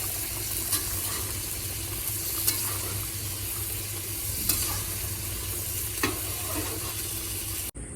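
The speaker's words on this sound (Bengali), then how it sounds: "এদিকে শাপলা ভাজাটা করছি" Water lily (shapla) stems fry in a pan in a home kitchen, giving a steady, close sizzle with a few sharp stirring clicks spread through it.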